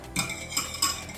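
Food being stirred in a pan with a metal utensil, three quick scraping clinks against the pan over a steady low background, close and alone.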